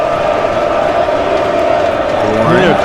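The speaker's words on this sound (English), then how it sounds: "The crowd is loud here" Simulated crowd in a college basketball game between Auburn and Oklahoma roars steadily under a play-by-play commentator talking, a constant loud arena cheer with a sustained whistle-like tone running through it.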